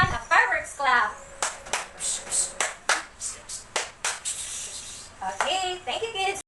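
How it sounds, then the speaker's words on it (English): Children in a classroom do a fireworks clap, a series of rhythmic hand claps and rubbing sounds rising and falling in bursts, with voices mixed in at the start and end. "Now let's give everyone a fireworks clap."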